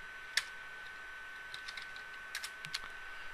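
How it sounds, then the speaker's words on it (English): Computer keyboard typing while entering commands during a new Cisco switch setup: a few faint, close key clicks, one isolated tap and then a scattered cluster of keystrokes in a quiet room. "I'm going to type in exit, or I'm going to type in disable"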